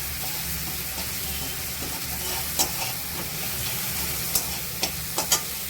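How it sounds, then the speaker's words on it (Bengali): Onion, tomato and garlic masala for fish fries in a pan with a constant close sizzle, broken by a few sharp spoon clicks toward the end, with no talking. "ভালো করে ভাজা ভাজা করে নিতে হবে একদম"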